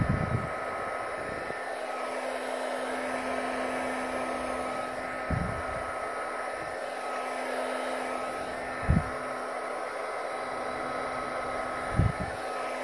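A heat gun blows steadily as it shrinks heat shrink tubing over an alligator clip, a continuous airy hum held at even loudness from start to finish, broken only by a few faint clicks and thumps.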